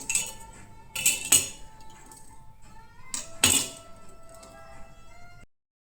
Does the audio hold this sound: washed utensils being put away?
yes